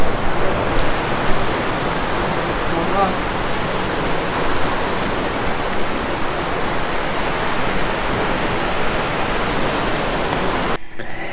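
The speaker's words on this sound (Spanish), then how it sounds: "después de atravesar la cascada" Inside the Monasterio de Piedra natural park, a waterfall roars as a dense, constant wash of falling water, loud and close, continuing unbroken until it cuts off abruptly at the very end.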